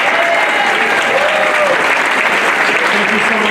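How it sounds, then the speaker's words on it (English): A reception audience gives a loud, sustained round of applause that stays dense and even from start to finish, with faint crowd voices mixed in underneath. "A round of applause for Antuftaran, the legendary broadcaster"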